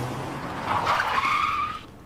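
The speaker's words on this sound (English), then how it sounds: "over here, we got a car effect" A car skidding sample used as an effect in a hip-hop song breakdown, a short rising tire screech lasting about a second over a faint background, standing alone without talk.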